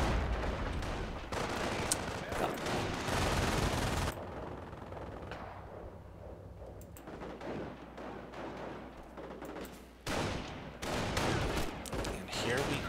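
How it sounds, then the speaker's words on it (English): An MG42 machine gun in the Company of Heroes video game fires in several sustained rattling bursts, separated by quieter gaps, with other battle noise in the background. "MG42 is going off on that Pioneer that's looking to cut that wire."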